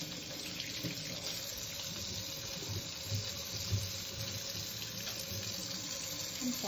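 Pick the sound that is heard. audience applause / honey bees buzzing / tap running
tap running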